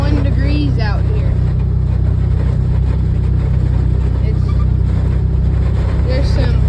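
An old, unreliable car engine drones loudly and steadily while driving on a farm, with heavy low rumble and some wind buffeting throughout.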